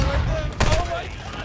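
Gunfire in a multiplayer first-person shooter video game, a short burst of shots at mid-distance over a busy game mix, with a player's voice murmuring faintly underneath.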